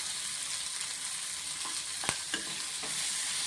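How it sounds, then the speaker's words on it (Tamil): Onions and rock salt sautéing in a pan, ready for paniyaram: a steady close sizzle with a few sharp clinks of a spoon stirring against the pan, no voices. "வெங்காயமும் கல்லுப்பும் இதிலே சேர்த்துட்டேன். இதை நல்லா கொஞ்சம் வதங்கட்டும்."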